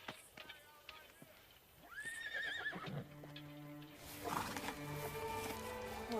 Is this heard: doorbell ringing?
no